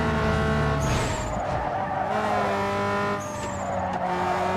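A Mitsubishi 3000GT skids in the racing game Need for Speed Underground 2, with a continuous engine drone and two thin tire squeals rising over it, loud and steady throughout.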